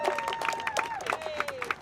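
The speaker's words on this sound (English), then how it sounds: "I just want you to give yourselves a big round of applause before we end" Faint crowd applause at an outdoor housing equity rally of demoviction advocates in Toronto, scattered claps over a thin, sliding whistle-like tone, with voices mixed in.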